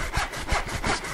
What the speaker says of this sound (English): Saw straight down.